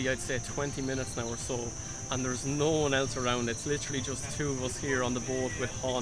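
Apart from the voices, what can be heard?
cicadas chirping in background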